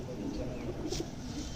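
Saharanpuri Kalsara pigeons coo softly in a loft, with low, throaty murmuring close by and steady background rumble throughout a brief stretch.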